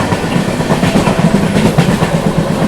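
The Navjeevan Express rolls along in steady rain, its wheels beating a loud, continuous rhythmic clatter over the rail joints, heard close from on board with no talk.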